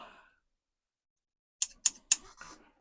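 Metal scissors tangled in a cable are handled and dropped into a bucket, giving three or four sharp, close clattering hits in quick succession after a brief silence.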